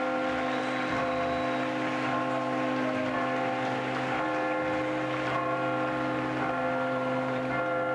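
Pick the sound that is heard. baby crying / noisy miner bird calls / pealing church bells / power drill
pealing church bells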